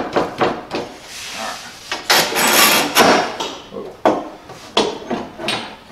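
Two wooden pieces of a wall flag are slid and knocked together, giving a string of sharp wooden knocks and scraping slides, with one longer grinding push in the middle, close and fairly loud, with no talking.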